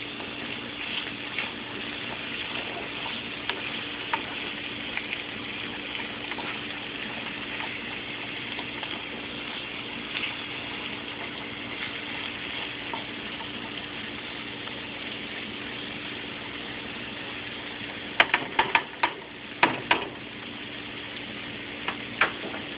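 Sweet peppers and jalapenos frying in oil in a pan for Jamaican ackee and saltfish, a steady even sizzle throughout, close, with a few brief clanks of a utensil near the end.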